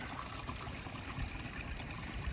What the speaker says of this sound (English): Stopped off at this pretty little stream.